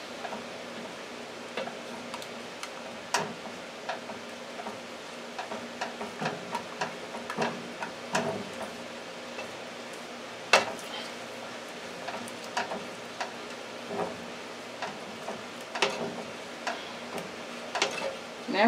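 Peach shortcake filling being stirred with cinnamon, a spoon scraping and clicking against the bowl in irregular, fairly close taps, with faint low background hum and no talking.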